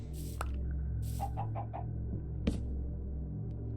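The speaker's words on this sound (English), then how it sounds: "Must be the chicken." A Minecraft chicken gives a few short, soft clucks in quick succession over a low steady game background hum, no voices.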